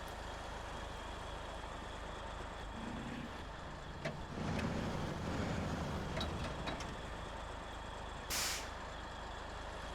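Truck in the video game SnowRunner with a steady engine drone, a rising rumble midway and a sharp hissing air-brake release near the end, moderately loud with no talk.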